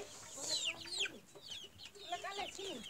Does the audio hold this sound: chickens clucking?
yes